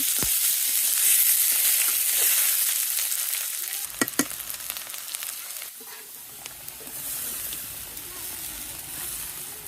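Green-chilli curry sizzling and frying in a pan, a steady bright hiss with stirring scrapes and clinks, fairly close, with faint talk in the background.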